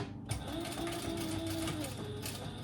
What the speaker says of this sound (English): So I'm just gonna baste this in place.